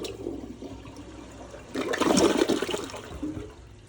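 A newly plumbed toilet in a Catskills camp cabin is flushed, first as a soft trickle, then a loud rush of water that swells and then drains away into a quieter refill.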